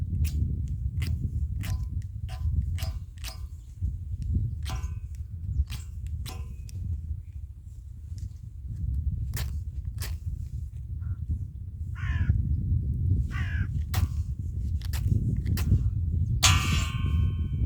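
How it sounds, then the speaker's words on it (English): A Petromax fire steel is struck again and again onto wood shavings and Vaseline-soaked cotton wool, giving sharp rasping scrapes in irregular bursts over a steady low outdoor rumble. "So fire steel, see how that goes."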